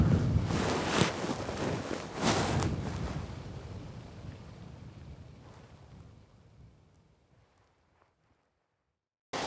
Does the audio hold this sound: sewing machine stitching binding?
no